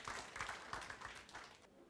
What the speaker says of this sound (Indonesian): Kalau mau kasih tepuk tangan yang meriah buat Allah.